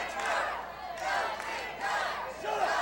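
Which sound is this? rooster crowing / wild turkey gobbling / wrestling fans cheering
wrestling fans cheering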